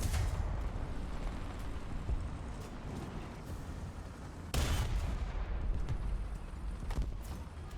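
Cannon fire from a tank video game booms loudly over a constant rumbling battle din, with one sharp blast standing out midway and lighter shots scattered around it, and no talking.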